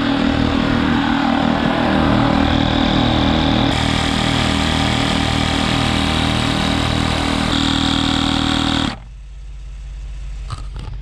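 A 12-volt electric pump inflating a paddle board to 15 PSI gives a loud, steady mechanical drone with a rhythmic pulsing, which shifts pitch partway through and then cuts off abruptly, leaving a quiet tail.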